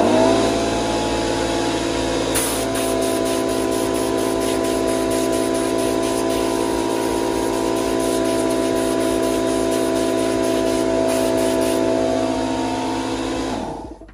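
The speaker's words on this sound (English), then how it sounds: "We'll blow that out with the blower." Air blower blasting dust out of a Ryobi sander's sturdy filter, a loud steady rushing hiss that holds for about twelve seconds before cutting off, with no talking.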